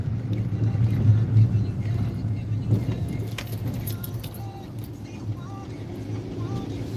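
Road traffic hums and rumbles around someone speaking, with passing vehicles and engine noise at moderate distance beneath his talk.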